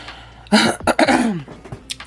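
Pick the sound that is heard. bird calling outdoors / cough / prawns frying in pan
cough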